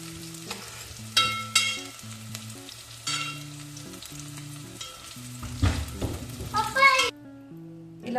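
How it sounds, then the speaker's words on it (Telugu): Baby potatoes fry in hot oil with a steady, crackling sizzle and occasional stirring scrapes, heard close under soft background music. "చూడండి, ఇక్కడ పొటాటోస్ ఫ్రై అవుతున్నాయండి. లైట్ గోల్డెన్ బ్రౌన్లో వస్తున్నాయి పొటాటోస్."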